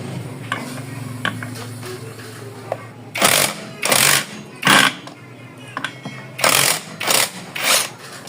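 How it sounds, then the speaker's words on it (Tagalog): A 39mm socket tool loosening the large CVT torque drive nut on a Yamaha Mio Sporty scooter, with a faint hum and a few light clicks first, then several loud, harsh rattling bursts of an impact wrench, close. "Para mabaklas natin tong malaking nut na to."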